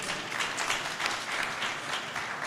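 Audience applause for New Jersey General Assembly Speaker Craig Coughlin at a government event, a dense, steady wash of many hands clapping throughout with no talk over it.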